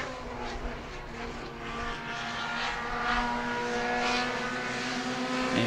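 A modified mini race car on a qualifying lap at New Smyrna Speedway, its engine a sustained buzzing drone that swells slightly as it passes, heard from trackside without talk.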